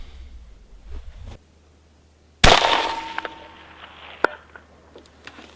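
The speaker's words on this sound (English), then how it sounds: "I'm shooting where I think it is. We will hear it hit." A long-range rifle shot fired at a snow-covered target 500 yards away gives one sharp, loud crack that decays into a rolling echo. A fainter distant knock follows about two seconds later.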